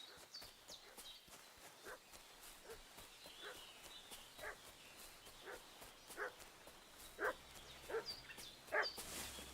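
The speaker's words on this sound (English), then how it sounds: "What's that dog making such a fuss about?" Dog barking in the medieval village world of Kingdom Come: Deliverance 2, a series of sharp, fairly distant barks that grow louder and more frequent toward the end over a steady ambient outdoor hiss.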